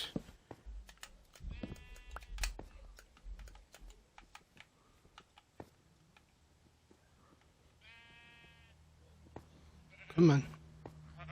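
Sheep in the video game Minecraft bleat in a few short, separate calls between scattered keyboard taps and clicks, with talk now and then.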